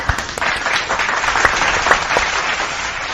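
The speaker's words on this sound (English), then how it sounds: "the viewers' applause" A burst of crowd applause, many hands clapping densely and continuously at a fairly loud, even level with no talking.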